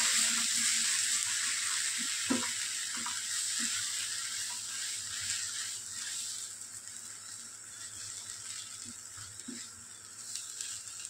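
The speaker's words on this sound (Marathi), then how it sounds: "पालकाची पेस्ट आपण छान फ्राय करून घेऊ." Spinach paste frying in a pan, part of a soya chunk and spinach dish, gives a steady bright sizzle, with a few soft knocks and stirring clatters spread through it and no talk.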